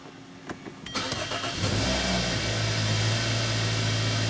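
A Hyundai with a throttle-control fault: a few clicks, then the engine cranks, catches and settles into a steady close idle.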